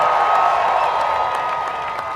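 A large crowd at an Independence Day 'Salute to America' celebration cheers and applauds, forming a dense, steady roar that thins slightly toward the end.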